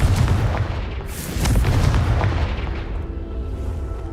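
Explosion spell going off in the video game Hogwarts Legacy: loud, dense booming blasts with a rumbling, crackling wash that swells twice and then slowly decays, without speech.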